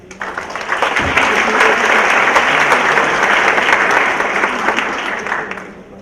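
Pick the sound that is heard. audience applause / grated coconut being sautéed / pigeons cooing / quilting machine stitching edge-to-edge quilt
audience applause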